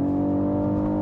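A 2020 BMW X6 engine hums steadily and close, a smooth sustained drone with no talking.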